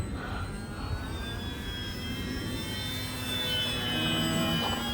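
A Flite Test Simple Scout XL RC model airplane flies over a runway, its motor giving a steady whine with pitch sweeping up and down as it passes, growing slightly louder toward the end.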